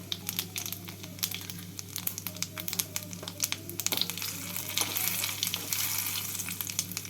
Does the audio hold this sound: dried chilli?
yes